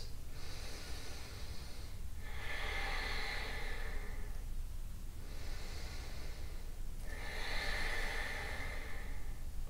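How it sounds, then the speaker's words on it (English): Slow, deep breathing during a vinyasa yoga flow: two long, loud breath cycles with a slow steady rhythm, each a broad airy rush swelling and fading, close and heard alone without talk. "3 more breaths."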